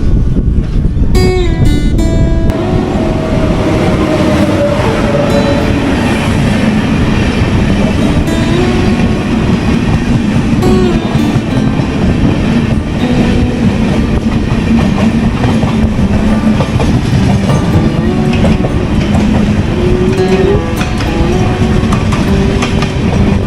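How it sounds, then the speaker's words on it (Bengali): A Bardhaman–Jhajha MEMU local train pulls out of platform 6 at Bardhaman station in the morning. It gives a loud, steady rumble with rhythmic clickety-clack from the wheels on the rails, close by and continuous, with no talk. "ট্রেন নাম্বার 63509 বর্ধমান ঝাঁঝা মেমু সকাল 7:19 বর্ধমানের 6 নম্বর প্ল্যাটফর্ম থেকে ছাড়লো"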